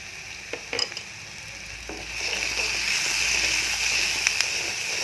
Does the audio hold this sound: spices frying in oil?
yes